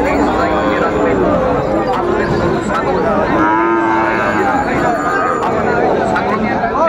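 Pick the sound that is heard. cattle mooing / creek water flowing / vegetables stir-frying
cattle mooing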